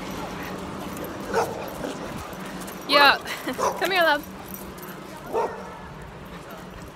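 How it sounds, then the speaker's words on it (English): Dogs scuffling in play-fight, with a few sharp yips, whimpers and short barks bursting out in quick clusters over a steady background, while a person speaks briefly to them. "oh, my dog's fighting."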